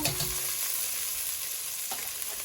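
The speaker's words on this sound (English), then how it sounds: "So at this point, I'm now going to put my garlic in." Garlic sizzles in a pot of oil for tortellini soup, a soft steady frying hiss with a brief clatter near the start and end, and no talking.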